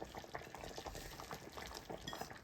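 Ingredients for Jamaican oxtail are stirred around in a pot, giving a faint, steady wet sloshing and bubbling with soft irregular scraping, close by and without talk.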